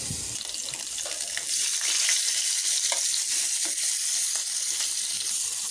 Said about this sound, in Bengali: প্যানেতে দিয়ে দিচ্ছি তেল, দিয়ে দিচ্ছি লবণ হলুদ মাখানো কার্ফু মাছ।